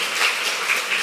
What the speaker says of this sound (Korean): 우리 한번 크게 박수를 한번 쳐주세요